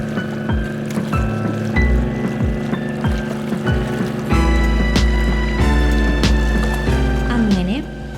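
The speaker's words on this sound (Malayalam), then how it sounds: "അങ്ങനെ 11:30 തന്നെ നമ്മുടെ ബോട്ട് യാത്ര ആരംഭിച്ചു" A passenger ferry of the state water transport service chugs along the backwater between Alappuzha and Kottayam, its steady engine drone loud and close with a rhythmic low thumping and water noise throughout, growing fuller midway.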